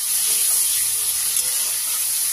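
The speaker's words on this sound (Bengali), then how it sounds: "শুধু নুন দিয়ে হালকা হালকা করে ভাজবো" Steady, bright sizzling of vegetables frying lightly in a pan with just salt, for fried rice, an even hiss throughout with no talking.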